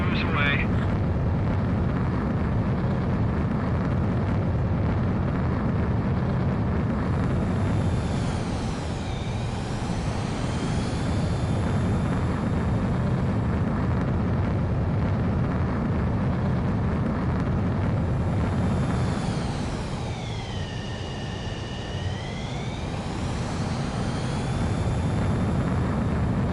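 A fighter jet in Ace Combat 7 launches with a sustained loud roar of engine thrust, with two rising whooshing sweeps as the aircraft accelerates away and a voice speaking over the noise.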